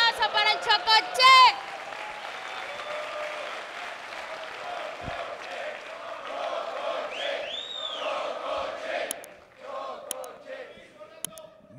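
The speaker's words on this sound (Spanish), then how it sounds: "¡Un fuerte aplauso para el Chocoche!" Audience applause and cheering at a comedy show, starting with a burst of whoops and shouts, then settling into steady clapping with scattered crowd noise and brief voices beneath.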